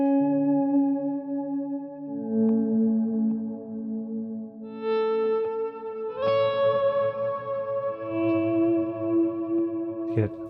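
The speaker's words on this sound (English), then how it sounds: "It's a stereo reverb pedal, and it is just absolutely incredible." Sustained guitar tones through a Hologram stereo reverb pedal wash into long, shimmering reverb tails, with layered echoes building and overlapping, steady and fairly loud throughout, no voices.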